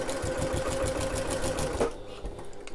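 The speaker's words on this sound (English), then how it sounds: "So I'm going to start with my needle down, back stitch, sew over there a couple of times" Sewing machine back stitching over a backpack strap, a steady rapid mechanical chatter of needle strokes running loud and close for about two seconds before cutting off, then a faint mechanical tail.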